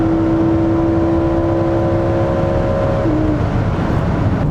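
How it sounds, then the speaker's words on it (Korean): Exhaust note of a Lamborghini Huracan EVO with a naturally aspirated V10, a steady droning tone that rises slightly in pitch, then drops and settles, heard up close without talk. "자연흡기이기 때문에 가능한 이런 배기 사운드라고 할 수 있는데"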